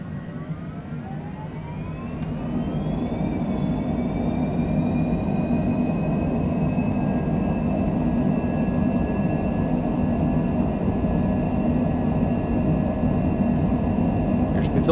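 An airliner's jet engines run at takeoff power at Chicago Midway in snow showers, heard from the cockpit as a loud steady roar with a rising whine that climbs and then levels off, constant throughout the roll.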